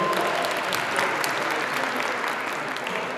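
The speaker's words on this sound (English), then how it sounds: "Round of applause for them," A gala audience at a bar association dinner breaks into applause, a dense, even patter of many hands clapping that fills the room steadily from start to finish with no speech over it.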